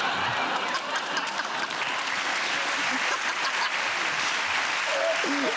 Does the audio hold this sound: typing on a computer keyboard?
no